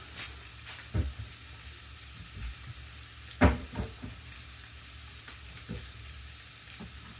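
Beef short ribs sear in a hot pan, a steady close sizzle with a few sharp pops and clatters as the meat is set down and moved.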